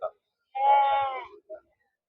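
A sheep bleats at a livestock market in Gudur where sheep and rams are penned and traded; one clear, drawn-out wavering bleat sounds close by, with a short grunt just before it and a brief call just after.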